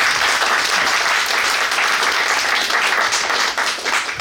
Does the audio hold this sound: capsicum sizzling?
no